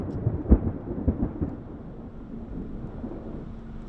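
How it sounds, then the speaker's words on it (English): A tornado storm, wrapped in rain and big hail, sounds like a steady rumbling roar of rain and wind with a few sharp thuds and knocks early on, loud and close, with no voices. "Wrapped in rain. Hail. Big hail."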